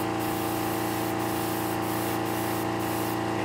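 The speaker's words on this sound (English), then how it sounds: "we're just going to spray over the back" A steady hiss of an airbrush spraying paint onto a fishing lure runs continuously and close, with a faint mechanical hum beneath it.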